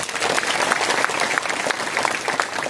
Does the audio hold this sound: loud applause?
yes